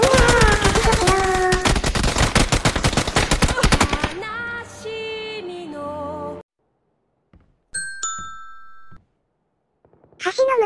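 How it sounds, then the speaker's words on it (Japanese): Rapid bursts of gunfire in PUBG fill the first few seconds, loud and dense, followed by quieter chimes and scattered electronic tones. "の向こうで銃声がしてるねー。"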